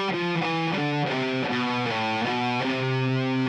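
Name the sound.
distorted electric guitar descending lick with legato and slide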